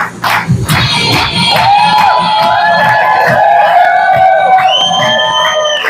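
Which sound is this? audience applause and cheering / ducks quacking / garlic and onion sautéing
audience applause and cheering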